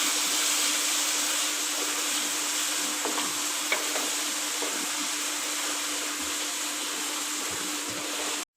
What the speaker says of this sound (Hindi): कलेजी को मुझे भूनते हुए 10 से 12 मिनट हो गए हैं।